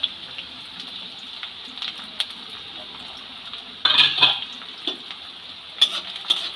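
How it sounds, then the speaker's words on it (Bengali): Chopped onion and four slit green chillies fry in hot oil, giving a soft, steady sizzle with a few louder bursts of crackle and the clink of a pan or spatula. "4টে কাঁচা লঙ্কা চিড়ে রেখেছিলাম সেটাও তেলের মধ্যে দিয়ে দিলাম।"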